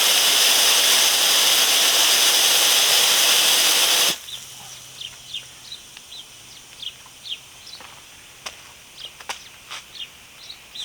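Loud, steady compressed-air hiss from a loose sandblaster hose cuts off abruptly, leaving a quiet space with birds chirping faintly in the background.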